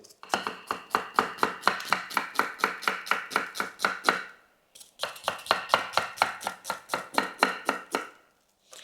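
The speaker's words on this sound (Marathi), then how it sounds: "आता आपण कांदा कापून घेऊया" A knife chops onion on a cutting board for crisp corn bhaji fritters, a fast steady series of crisp, close strikes in two long runs separated by a brief pause, with no talking.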